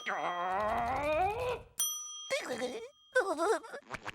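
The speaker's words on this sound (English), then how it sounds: "SpongeBob, stop ringing this bell." A bell dings sharply in a SpongeBob cartoon, a bright ring cutting between animated voices, with cartoon characters talking before and after it.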